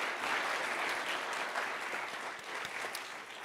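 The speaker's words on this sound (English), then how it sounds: "Give them a round of applause" A large audience applauds after a diagnostics startup's pitch at TechCrunch Disrupt 2023 Startup Battlefield, with dense, steady clapping that fills the room and tapers slightly toward the end.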